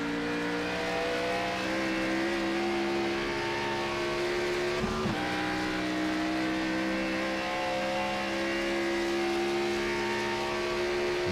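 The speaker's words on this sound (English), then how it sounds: "A lot of RPMs as you climb the hill, and then hard onto the brakes." A race car climbs the hill at Road America, its engine held at high revs in a loud, steady drone with a brief dip partway through as the driver shifts, then rising again.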